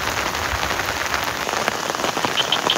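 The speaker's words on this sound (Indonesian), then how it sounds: "Masih hujan deras disertai badai petir." Heavy rain pours onto a camp beside a crater lake on Mount Galunggung during a thunderstorm, a dense close hiss of drops drumming on surfaces, steady throughout, with a few faint chirps near the end.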